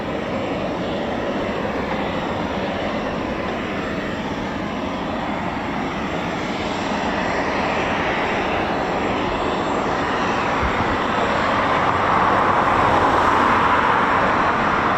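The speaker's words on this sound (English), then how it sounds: "the Typhoon is backtracking" A Eurofighter Typhoon FGR4 jet taxis back along the runway at an RAF station, its engines giving a continuous broad roar that swells slightly louder toward the end.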